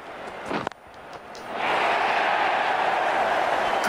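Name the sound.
cricket crowd cheering a boundary four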